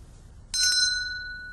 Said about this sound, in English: And this is the bell the president rang.